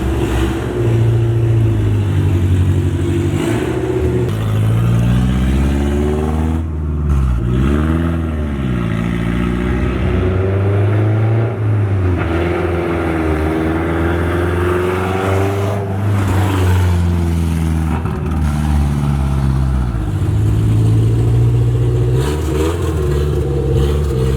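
A repaired minivan engine idles loudly and revs up repeatedly in sweeping rises and falls, close and dominant throughout with no talk over it.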